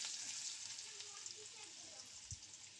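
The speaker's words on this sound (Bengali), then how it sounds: "তেল পুরোপুরি গরম হয়ে গেলে ধীরে ধীরে ম্যারিনেট করা চিকেনের টুকরোগুলো একটা একটা করে ভেজে নিতে হবে হালকা আঁচে" Marinated chicken pieces for pakora frying in hot oil over low heat, a faint, even sizzle with a soft bubbling hiss throughout and one low knock near the end.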